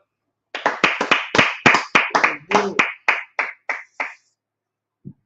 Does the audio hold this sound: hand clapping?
yes